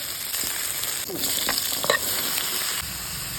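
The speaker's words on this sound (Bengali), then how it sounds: "মাছ ভাজার তেলের মধ্যেই আমি লঙ্কা, জিরা আর তেজপাতা দিয়ে দিলাম" Chili, cumin and bay leaf frying in hot mustard oil left from frying fish, a constant bright sizzle with a few soft stirring knocks in the pan, close and steady, with no voices.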